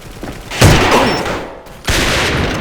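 Sniper rifle shots in the shooter game A.V.A., two sharp loud cracks about a second apart, each followed by a short fading tail.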